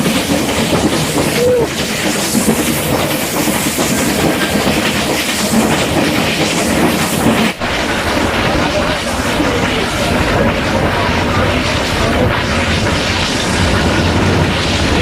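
Nilgiri mountain railway engine pushing a train uphill from Mettupalayam toward Ooty among rocks and over a bridge, making a loud, continuous, close rumble and clatter with one brief thump midway.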